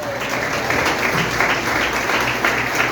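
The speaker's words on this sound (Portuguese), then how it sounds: "Quando está acreditando, aplaude o Senhor" A church congregation at a family service breaking into applause, a dense, steady wash of many hands clapping together throughout, moderately loud and with no pauses.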